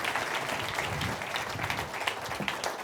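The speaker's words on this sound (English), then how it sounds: "A big round of applause again." A conference audience applauds at a business event on inflation, interest rates and geopolitics for Nordic businesses, a dense, steady round of clapping from a hall full of people that carries on throughout.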